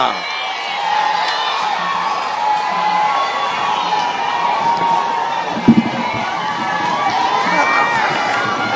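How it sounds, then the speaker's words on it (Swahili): A crowd at a Kenyan political rally claps and cheers in a steady, loud, continuous roar of voices and applause, with a few whoops rising above it. "Pikia makofi, anakuja."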